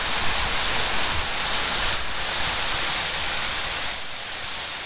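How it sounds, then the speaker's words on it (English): Water from the Liusha waterfall, China's longest, falls in a constant soft hissing rush heard from right underneath it, steady and enveloping with no other sounds. "So here we are right under China's longest waterfall"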